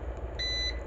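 A short electronic beep, a steady high tone lasting about a third of a second, over a low hum.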